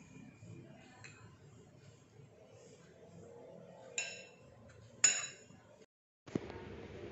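Olive oil being stirred into a potato filling on a plate gives quiet scraping and light clinks of a utensil against the plate, with a few sharper knocks and a brief pause near the end.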